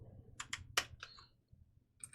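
Someone types on a computer keyboard close by, a handful of quick, crisp key clicks in an uneven burst, a short pause, then one more click, with no talking.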